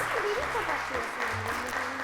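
An audience claps through a short, steady burst of applause as a child is called up on a TV show, with voices talking over the clapping.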